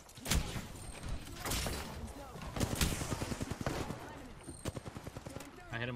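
Rapid bursts of gunfire from the Apex Legends battle royale game crackle in quick clusters, some tight automatic strings and scattered single shots, loud and close, with a player's voice talking in between.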